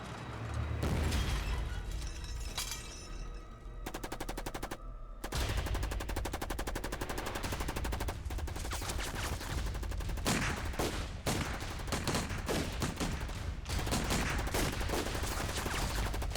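Heavy gunfire fills a war-film battle scene: sustained machine-gun bursts and rapid rifle shots, loud and close, with brief pauses and explosive cracks throughout.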